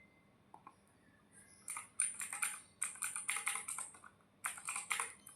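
Someone types a MySQL password on a computer keyboard in quick clusters of close, crisp key clicks, irregular in rhythm with brief pauses, quiet overall in a still room.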